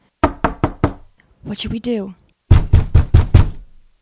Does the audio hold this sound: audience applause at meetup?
no